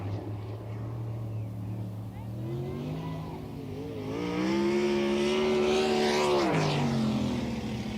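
Sprint car engine on a qualifying lap at Ohsweken Speedway, a loud droning roar that rises in pitch as the car nears, peaks, then drops away as it passes.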